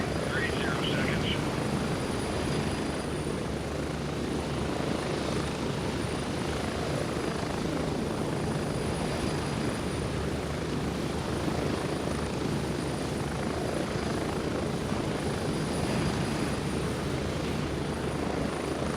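Steady, loud helicopter rotor and engine drone during an in-game flight in Gray Zone Warfare, continuous and close throughout with voices talking underneath.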